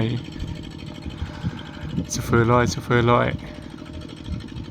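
A small single-cylinder walking tractor engine chugs steadily in the background with a rapid pulsing rhythm, while someone speaks briefly over it.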